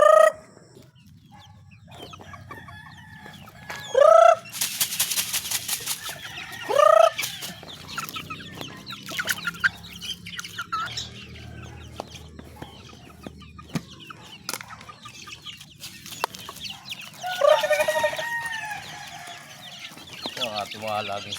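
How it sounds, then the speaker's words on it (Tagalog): Pet chickens and chicks cluck and call around a farmyard before feeding, with several loud rising squawks standing out over a steady chatter of softer peeps and clucks; a person speaks briefly at times. "nag-aantay na po ang mga ating mga alagang sisiyo at alagang manok"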